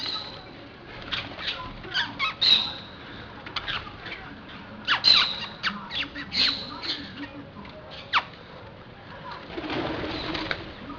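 Wild parakeets gather at a window in Brazil, giving sharp, repeated squawks and chatter in irregular bursts close by over a faint background hiss.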